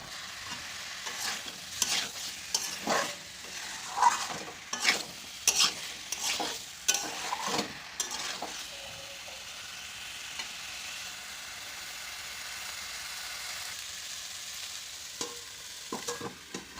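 Fried jackfruit pieces are stirred with spices and crushed black pepper in a sizzling pan, the spoon scraping in repeated close strokes over a steady frying hiss, then the sizzle continuing alone.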